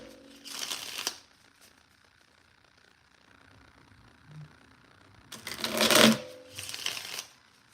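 Tarot cards riffled and shuffled by hand in two close, crisp bursts, with a quieter stretch of faint handling between them and no talk over the shuffles.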